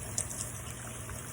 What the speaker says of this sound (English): we're going to go ahead and rinse that with warm running water